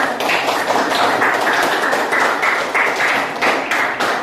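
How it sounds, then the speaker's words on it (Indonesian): An audience at an academic supervision coaching session claps in steady group applause, dense and continuous for the full stretch, with no voices over it. "Ya, tepuk tangan ya. Tepuk tangan."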